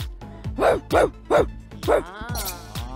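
A person imitates an angry dog, letting out four sharp, gruff barks in quick succession followed by a drawn-out growling whine.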